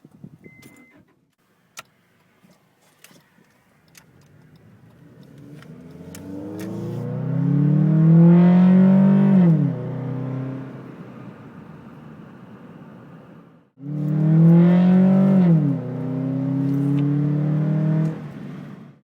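A 1995 Honda Accord engine with a short ram intake revs up twice in first gear with a throaty intake roar, climbing and falling, separated by a brief idle dip; small clicks and rattles precede it.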